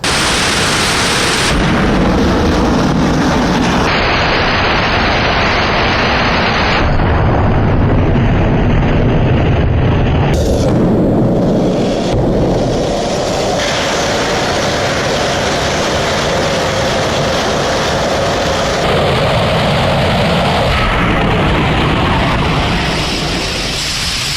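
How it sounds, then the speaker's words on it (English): A sustained, roaring rumble of an Ursa Major rocket engine test firing, loud and continuous with harsh noise throughout and a few abrupt shifts in intensity. "If we're cutting to that explosion footage right now"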